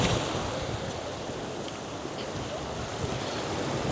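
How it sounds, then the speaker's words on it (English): Ocean surf rolls in on a beach at Palm Beach, Aruba, a steady broad wash of breaking waves mixed with wind rumble on the microphone, continuous and fairly loud throughout. "Wow, look at those waves back there."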